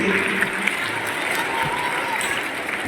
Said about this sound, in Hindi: एक बार जोरदार तालियां देंगे।